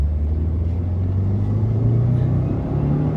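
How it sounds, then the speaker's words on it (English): A 2015 Subaru WRX pulling hard in second gear up toward its roughly 6,800 RPM redline, a loud, close engine drone rising steadily in pitch over a deep rumble, alone without talk. "That's a second gear pull all the way up to red line, or close to it."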